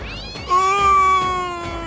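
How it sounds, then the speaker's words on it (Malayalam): A single drawn-out, high meow from a kitten, close and clear, rising slightly then trailing off, with no talking. "എന്റെ പൂച്ചക്കുട്ടി, എന്റെ പൊന്നു പൂച്ചക്കുട്ടി."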